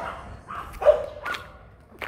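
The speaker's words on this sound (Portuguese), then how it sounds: "É o cachorro latindo." A dog barks a few times during an outdoor walk, short sharp yelps spaced unevenly at moderate distance, with quiet street ambience between them.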